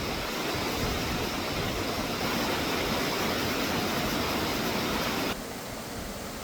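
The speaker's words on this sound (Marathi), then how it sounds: "पावसाने सुरुवात केल्याने छोटे मोठे धबधबे देखील आता ओसंडून वाहू लागलेले आहेत" A waterfall swollen by heavy monsoon rain near the Kas plateau in Satara roars in a dense, constant rush, loud and unbroken, with no voices, easing slightly in the final second.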